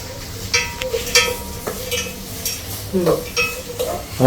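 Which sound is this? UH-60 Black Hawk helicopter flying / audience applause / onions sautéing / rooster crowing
onions sautéing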